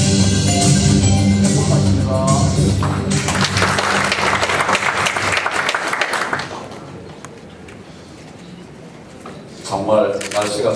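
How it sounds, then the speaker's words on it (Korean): An audience applauds at a journalism awards ceremony in a small meeting room. Steady, loud clapping runs for about six seconds and then thins out, and a voice starts speaking at the end. "박수로 환영해 주시면 감사합니다."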